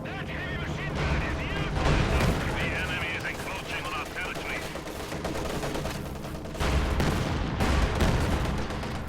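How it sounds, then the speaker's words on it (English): A T-34 tank engages a machine-gun nest in a World War II strategy game battle, with dense, loud bursts of rapid gunfire and booming shots running throughout and muffled voices faintly mixed in. "T-34 is engaging an MG over here on the right side."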